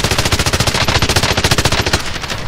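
Rapid automatic assault rifle fire in the video game Warzone, a loud close continuous burst of evenly spaced shots lasting the whole stretch and tapering slightly at the end.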